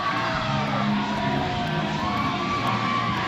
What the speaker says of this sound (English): And you hear the roar of the crowd grow up.